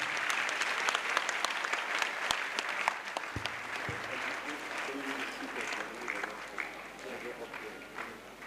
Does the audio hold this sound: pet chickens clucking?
no